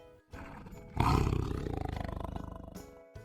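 A tiger gives a single loud, close roar that swells quickly and then rumbles in a pulsing, throaty pattern before stopping abruptly, with no voices.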